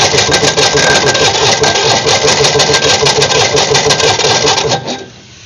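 Diesel engine cranked and started after a brief glow-plug preheat, a loud steady rattling chug that runs on, then cuts off abruptly near the end.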